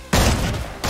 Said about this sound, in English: Let me shoot him.